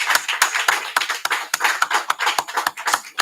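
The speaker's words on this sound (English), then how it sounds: "All right. Clap it up." Audience clapping at a religious feast dedication gathering in Houston, a run of sharp, fairly steady hand claps, not tightly together, close and moderately loud, with no talking.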